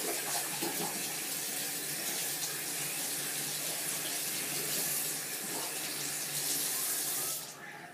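A tap runs into a sink with a steady, close splashing hiss that holds for several seconds before the flow shifts near the end.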